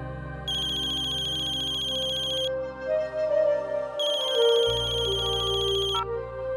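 Mobile phone ringtone for an incoming call, a bright repeating electronic melody with a steady synthetic beat, clear and close, playing alone without any talking.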